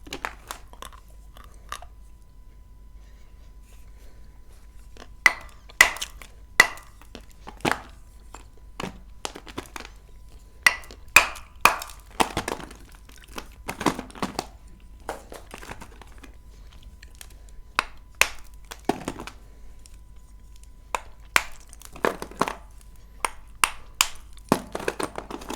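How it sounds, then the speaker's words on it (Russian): Large chunks from an assortment are bitten and crunched close up: sharp, dry cracks come in scattered clusters with chewing between them, and quiet gaps separate the bites. No one speaks. "такие кусочки вообще обалденно кушать. Оно сложно откусить."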